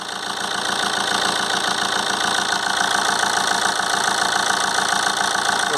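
A steady mid-pitched 2.0 CDTi diesel engine in a Vauxhall/Opel Insignia with a turbo overboost fault idles continuously with a regular knocking pulse, close and fairly loud, with no other sounds.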